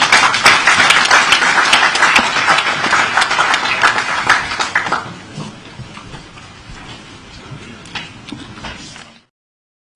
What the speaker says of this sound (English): Once again, a round of applause for Mr. Speaker.